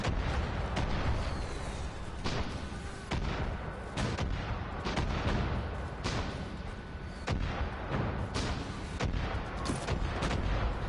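Far Cry 5 battle with gunfire and mortar fire, a dense continuous barrage of shots and thumping blasts at moderate level throughout, no talk.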